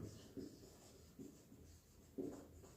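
Chalk or marker writing on a board, a few short scratchy strokes in separate bursts, soft and close with a faint room hum underneath.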